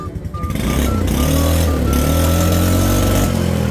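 A 14-year-old Kymco Super 8 125 scooter engine revs up close and loud, climbing into a steady buzzing drone with a rising whine, after a brief quieter start.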